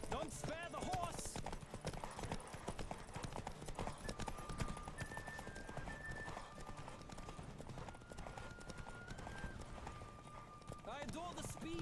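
Horse hooves clip-clop at a fast gallop in The Witcher 3, a steady pounding rhythm running throughout over game music, with a voice speaking over it.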